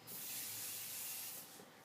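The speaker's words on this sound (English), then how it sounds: "I'm just gonna give it a little spray" Benefactor Be Proud hairspray sprays onto hair in one steady aerosol hiss lasting over a second, close and soft, then tails off with a brief faint second puff.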